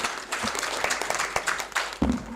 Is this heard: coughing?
no